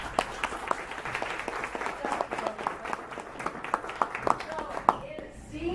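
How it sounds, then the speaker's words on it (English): Scattered audience clapping at a children's drama summer camp showcase, a loose patter of individual claps that runs for several seconds and thins out toward the end. "You can give them applause."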